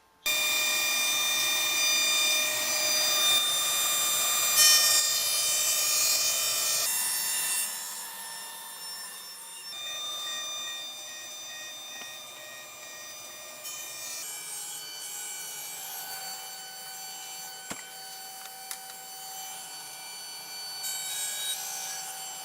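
A saw blade cuts melamine laminate panels into pieces for a cube. The high whine rings with tonal overtones and drops in pitch as each cut proceeds. The cuts run continuously and close, with no voices.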